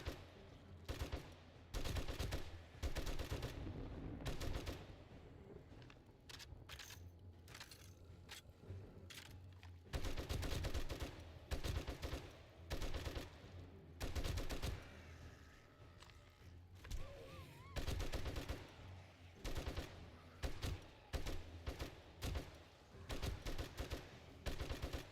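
Rapid bursts of gunfire in the zombie survival game 7 Days to Die during a blood moon horde, with repeated volleys and clustered shots running nearly continuously, loud and close, and brief gaps between barrages.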